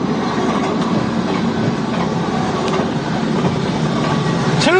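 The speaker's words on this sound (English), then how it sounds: "More locomotives!" Railroad locomotives and train cars roll past loudly in Nebraska, with steady rumbling, clickety-clack wheel rhythm and a brief metallic wheel squeal near the end.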